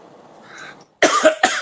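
After a brief soft murmur, a person lets out two sharp, loud coughs in quick succession, close up.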